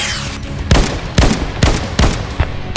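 Rapid gunfire in the horror game Slendytubbies: The Devil Among Us, five loud sharp blasts at a roughly even pace, each with a short ringing tail.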